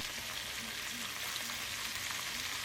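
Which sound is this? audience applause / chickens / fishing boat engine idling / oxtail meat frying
oxtail meat frying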